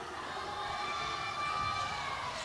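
Crowd cheering at a college men's basketball game between Grossmont and Southwestern, a faint, steady wash of distant voices and shouts with no clear peaks.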